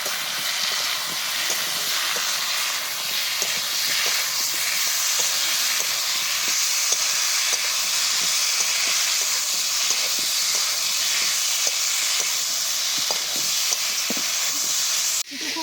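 Spices and fish sautéing in a pan for a Bengali bata fish curry with salt, turmeric and chili powder, a steady loud hiss of frying with scattered small crackles throughout.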